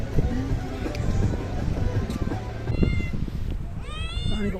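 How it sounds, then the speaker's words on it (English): Several small, rough street cats in Tunis meow nearby, with two clear rising cries standing out against a busy outdoor background of city rumble and passing noise. "I've never seen so many tiny, very rough looking cats pretty much everywhere you look."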